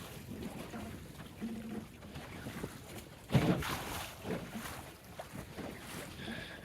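Choppy harbor wind roars across a small John Welsford Navigator sailboat heading upwind in Duluth, a steady rushing buffet with one louder gust and faint splashing of the hull through the chop.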